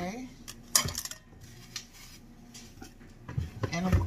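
Rice cooker parts and a small spoon being handled, with a sharp cluster of clinks and rattles early on, a few lighter taps in the middle and more clattering at the end, close up with no talk.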